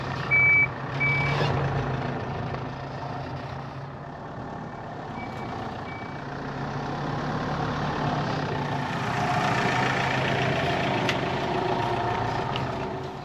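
A Mitsubishi Fuso FG 4x4 camper truck idles and creeps backward in a tight spot, its engine a steady low rumble while thin reversing beeps pulse faintly at intervals.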